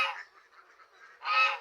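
Ducks on a duck farm call out in two loud, nasal honking quacks, one at the start and one near the end, with a softer murmur of calls between them and no talking.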